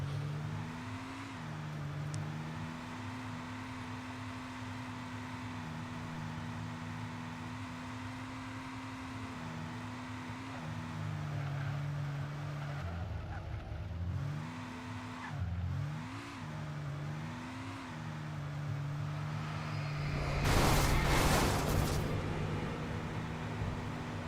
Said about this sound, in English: I'm just gonna steal this car that or that has the keys on it